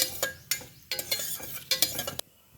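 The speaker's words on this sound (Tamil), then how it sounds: "எண்ணெயில் வந்து நல்லா பொரியட்டும்" Whole garam masala spices, cardamom and bay leaf, frying in hot oil in a pan for a green peas pulao, with a soft sizzle under repeated loud metal stirring scrapes and clinks, close and with no talk.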